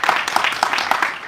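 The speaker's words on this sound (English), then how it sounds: "Let's give a big round of applause to Prabhu." Audience clapping for a speaker at a spiritual talk, a short burst of rhythmic, fairly close hand claps.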